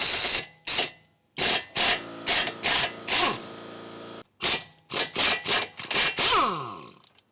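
On a 2008 Hyundai Elantra, 17mm and 19mm wrenches work loose the front strut mounting bolts with a string of sharp ratcheting clicks and metallic scrapes, close up, in bursts with short pauses between them.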